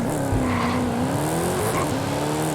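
A car in the Forza Horizon 5 racing game launches with a custom launch control, its engine revving and rising in pitch, with light tire squeal under a steady, loud engine drone.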